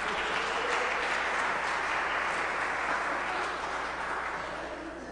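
An audience at a live talk or performance gives dense, sustained applause that fills the room and fades slightly toward the end.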